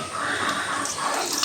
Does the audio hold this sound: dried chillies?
no